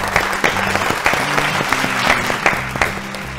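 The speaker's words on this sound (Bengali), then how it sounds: "জোরে হাততালি দুজনের জন্য" Studio audience applauding for two contestants on a Bengali family game show, steady clapping throughout with a light musical bed beneath, fairly loud and close.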